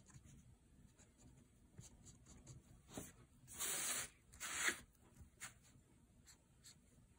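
Pen inking a drawing on paper, a soft, close scratching and rubbing with a few longer strokes in the middle, quiet with little else around it.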